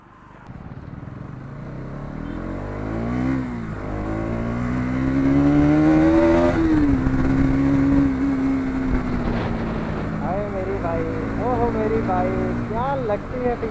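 Bajaj Pulsar NS 200 motorcycle accelerating hard, its engine note climbing in pitch through successive gear pulls, loud and close, with someone talking over it.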